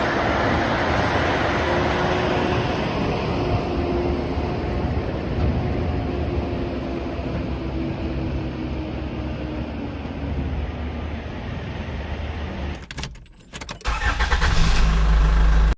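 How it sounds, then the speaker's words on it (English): A semi truck is towed away after an I-95 bridge collapse, with a steady loud engine and traffic rumble. Near the end it gives way to a brief disruption and then a heavier, louder rumble. "Here is a raw video of the semi truck getting towed away."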